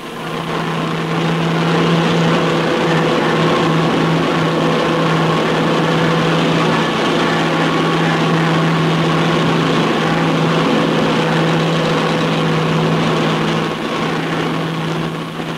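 Engines of a Sunderland flying boat in flight over Greenland, a loud steady propeller drone with a constant low hum that stays unbroken and close throughout.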